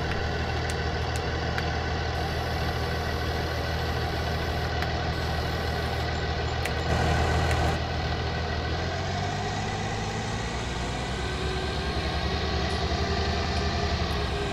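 A farm vehicle in a farming video game drones steadily as it drives to fetch a baler, a constant loud engine hum with layered tonal whine and a slight surge midway, no talk.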